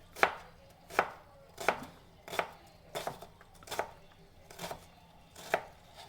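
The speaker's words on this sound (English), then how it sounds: "I want to chop it finely, so I'll make a horizontal cut this way and one more this way" A knife chops onion finely on a board with about eight evenly spaced, crisp taps, close and clear with no talking.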